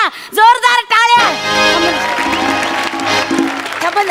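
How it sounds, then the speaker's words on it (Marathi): An audience at a Marathi comedy show award presentation breaks into loud, sustained applause right after a voice on stage, with a tonal, musical layer running underneath the clapping. "जोरदार टाळ्या."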